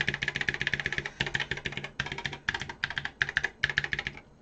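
Rapid, nearly continuous clacking of keys on a repaired Memotech MTX500 computer keyboard, close up, in dense runs broken by brief gaps, with a faint low hum underneath.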